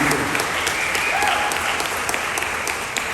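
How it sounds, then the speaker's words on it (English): Crowd applause for the graduating class of 2022 at a commencement ceremony, a steady dense wash of many hands clapping throughout, loud and sustained with a few sharper claps standing out. "can we give a round of applause, please, to the graduating class of 2022?"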